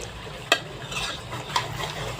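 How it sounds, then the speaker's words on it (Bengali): Potatoes sautéing in a pan for a homestyle chicken curry, a low steady sizzle with two sharp clinks of a spoon scraping the pan, about a second apart, nobody speaking. "আলুটা কষানো হচ্ছে"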